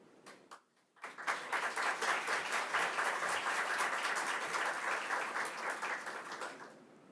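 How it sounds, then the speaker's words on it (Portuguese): An audience applauds after a lecture on economic concepts and economic analysis of law, a dense wash of clapping that starts after a few scattered claps, holds for several seconds, then fades. "Eu agradeço aí as palmas, né?"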